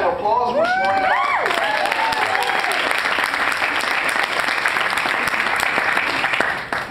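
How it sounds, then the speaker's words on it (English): Loud, steady applause and cheering from a Peace Corps Paraguay training-class audience, with a few high whoops near the start, then dense clapping that continues throughout without easing. "Give yourselves a round of applause."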